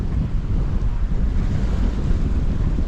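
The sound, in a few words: wind and waves on open sea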